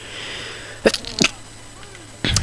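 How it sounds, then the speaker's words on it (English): A single close, loud sneeze with sharp bursts breaks into a quiet room during live commentary on a Rugby League Live 2 career game, with a short breathy noise after it. "Sneezed on camera."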